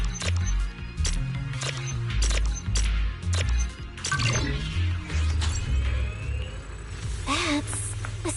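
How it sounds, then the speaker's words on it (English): Machinery working in the video game ZZZ: clanking, shattering metallic impacts and whirring mechanical noise over a low rumble, with a voice speaking partway through. "That's the sound of machinery."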